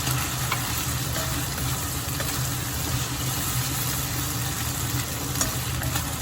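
Pork and onions frying in a wok with peppercorns and a spoonful of doubanjiang, giving a steady, close sizzle that runs unbroken throughout with faint stirring clinks and no talk.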